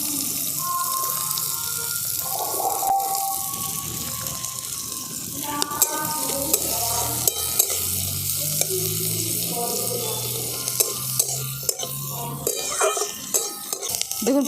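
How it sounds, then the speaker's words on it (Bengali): Chopped onions fry in hot white oil in a wok: a loud, continuous close sizzle, broken by occasional sharp clicks and stirring scrapes, with a low hum underneath. "তেলের মধ্যে দিয়ে দিচ্ছি কেটে রাখা পেঁয়াজ।"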